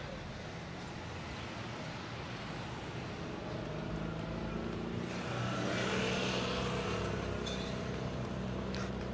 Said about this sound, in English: Cool Ferrari.